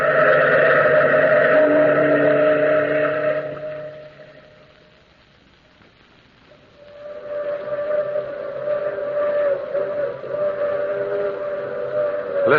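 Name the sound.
steam train whistle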